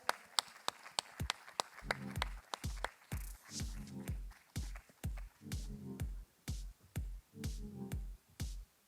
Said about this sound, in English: big round of applause for our two co-authors